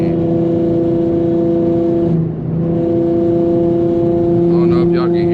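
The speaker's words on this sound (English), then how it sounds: "like this exhaust setup is drony" Infiniti G35 exhaust droning at a steady low pitch during a hard freeway pull, a constant loud hum inside the car with a brief dip midway, while someone talks over it.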